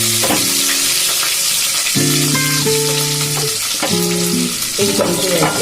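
Onions and green chillies fry in hot oil with a constant close, loud sizzle, while background music plays over it.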